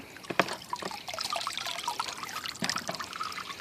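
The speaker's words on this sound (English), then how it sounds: "Got a little splash there." Liquid splashes and trickles in a backyard skull maceration bucket, with a sharp splash near the start and another around the middle, over steady dribbling water.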